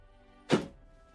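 A magnifying glass knocked over on a hobby desk, giving a single sharp, fairly loud thunk that quickly fades into quiet room tone.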